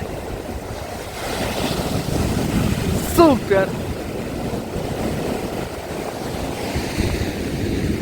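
Sea waves wash continuously onto the shore at Odesa on a rainy winter evening, a steady roar of surf and wind noise, with a brief word spoken and a short whistle-like tone midway.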